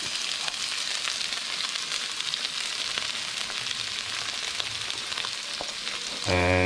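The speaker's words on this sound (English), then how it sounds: "we'll just give that a quick fry" Grated garlic, grated ginger and sliced green chilies frying in a pan for a Sri Lankan tomato curry, a steady close crackling sizzle throughout, then a brief louder burst right at the end.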